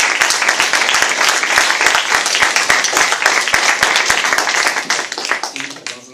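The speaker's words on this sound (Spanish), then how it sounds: "pues un aplauso" An audience at a talk about the publishing world gives a sustained round of applause, steady dense clapping with distinct sharp claps that tapers off toward the end as voices come in.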